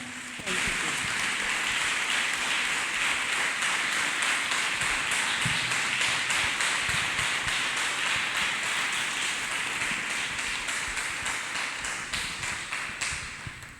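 A church congregation claps hands together in a dense, sustained patter like heavy rain, loud and continuous for many seconds before tapering slightly at the end.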